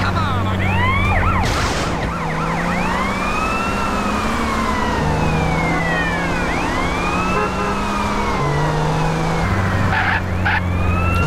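Police car siren in GTA San Andreas, loud and close, cycling through rising and falling wails and yelps over a low, steady engine drone, with brief harsh bursts near the end.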